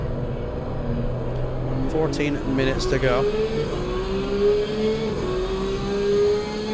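A Porsche GT3 race car engine in the Assetto Corsa Competizione racing game drones steadily, its pitch climbing as it accelerates through the gears, with someone talking over it.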